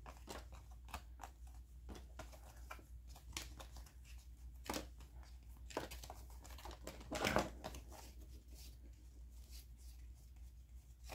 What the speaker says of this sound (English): I'm going to just come through my deck real quick and clear out some of these other cards I don't need.